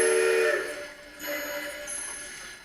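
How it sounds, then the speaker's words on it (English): An N gauge Kato Soundbox's default US light steam whistle sounds in two blasts, the first louder and longer, the second softer, with a hissy, airy tone. "That's the default whistle for US Light Steam"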